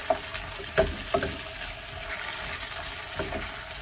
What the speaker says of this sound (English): This will definitely make things aromatic as the potatoes cook and saute.